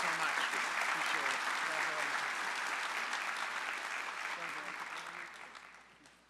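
Audience applause at a business session, a sustained round of clapping from a large crowd that holds steady and then gradually fades out.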